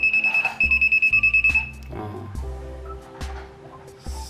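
A non-contact voltage tester pen detecting a live wire gives rapid electronic beeping pulses, then a steady high tone and a shorter burst of beeps, with a voice speaking in Thai underneath.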